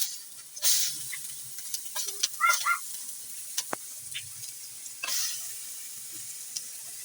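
Onion and garlic sauté in a pan for chicken curry, a soft sizzle with scattered stirring scrapes and clinks, fairly quiet and close, with no talking.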